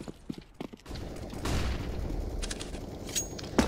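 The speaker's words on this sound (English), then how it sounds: "Flashbang." A flashbang grenade goes off in the video game CS:GO, a loud blast leading into a sustained bright hiss and ringing wash that holds for a couple of seconds, with scattered clicks and game noises before and after.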